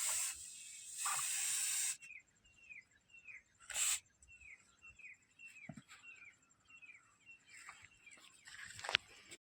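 Short hissing bursts of spray are aimed at a Jersey cow's sores, loud at first and then in brief puffs, with faint repeated bird calls in the quiet background and no talking.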